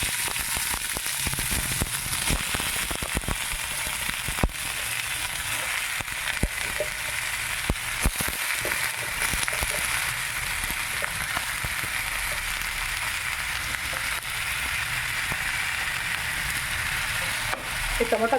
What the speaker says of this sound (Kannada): ಇದನ್ನು ತೆಗೆದ್ಬಿಟ್ಟು ಇವಾಗ ಟೊಮೊಟೊಕಾಯಿ ಹಾಕಿ ಹುರ್ಕೋಬೇಕು.